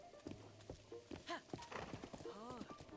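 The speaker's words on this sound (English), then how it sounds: "I am going to board my horse going into the Lost Woods here." Horse hooves clip-clopping in the video game Breath of the Wild as the horse heads into the Lost Woods, a quick light rhythm mixed with game sounds and a speaking voice over the top.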